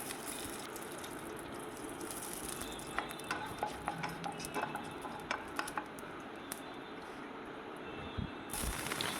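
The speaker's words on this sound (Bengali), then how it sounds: "তাতে ফোড়ন দিন কালো জিরে এবং শুকনো লঙ্কা" Nigella seeds and dry red chillies tempering in hot oil, a quiet sizzle with light crackles and utensil taps, fairly faint, with a brief louder clatter near the end.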